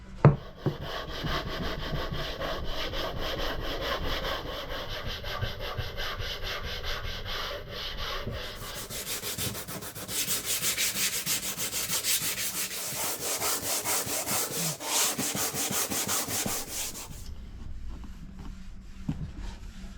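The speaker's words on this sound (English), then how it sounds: "Even though I'm sanding" Steady hand sanding on wood aboard a boat, a continuous gritty rubbing with rhythmic back-and-forth strokes, close and fairly loud, with no talking.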